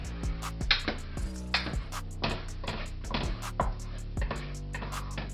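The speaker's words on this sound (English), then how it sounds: "You just want to keep swishing it around the skillet, basically." Scrambled eggs are pushed around a skillet with a utensil, giving a series of soft scraping knocks and taps at an uneven rhythm, fairly quiet and alone over a faint steady hum.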